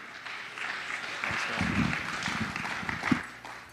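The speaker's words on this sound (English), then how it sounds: "let's give another round of applause for the brand new couple." Guests at a wedding reception applaud the newly married couple, a dense burst of clapping that swells, holds steady and tapers off over a few seconds, with a few cheers or voices mixed into the crowd.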